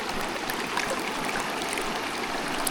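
Water rushes steadily through a gold prospecting sluice in a constant bright splashing hiss, close and moderately loud, with no one talking.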